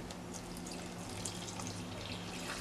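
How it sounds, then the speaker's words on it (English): Water runs into a flour mixture for a savory fried dough, a faint, continuous trickling and splashing with nothing else heard over it. "We're going to add a cup of water to this and knead thoroughly, let it set."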